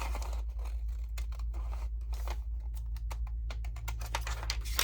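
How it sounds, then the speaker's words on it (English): Scissors cut vellum paper at an angle, giving rapid crisp snips and light paper rustling close by over a constant low hum, with no talking. "And then I cut that at an angle."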